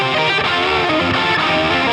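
An electric guitar with heavy distortion runs through a pentatonic scale in a brief, dense burst of notes that is loud and alone.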